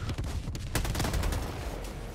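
Rapid autocannon bursts from the Helldivers 2 co-op shooter, a dense, loud run of overlapping heavy shots and impacts filling the whole stretch with no pauses.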